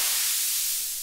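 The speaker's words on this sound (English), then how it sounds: "So going from a white noise to a blue noise all the way up there until we almost have no noise left." Broadband white noise from a Dreadbox Dystopia Eurorack noise module, a steady bright hiss alone with no voices, fading slightly toward the end.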